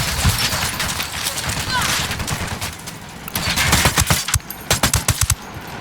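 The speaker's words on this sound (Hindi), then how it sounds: "I'm shooting these fuckers." Automatic weapons fire in Tom Clancy's Ghost Recon Wildlands, a military shooter game, with loud continuous gunfire that ends in rapid, punchy machine-gun bursts.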